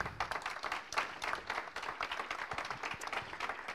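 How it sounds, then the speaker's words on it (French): An audience at a regional roadmap presentation bursts into steady applause, many hands clapping in a dense, even patter heard from some distance and fairly soft throughout. "Et je vais vous demander de les applaudir, s'il vous plaît."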